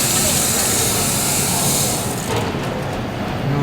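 Steady rush of tap water pouring over raw shrimp in a colander, a loud continuous hiss that eases slightly partway through, close up with no talk.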